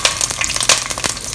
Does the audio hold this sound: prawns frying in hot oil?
yes